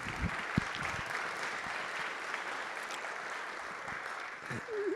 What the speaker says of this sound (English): Let's give her a big round of applause one more last time.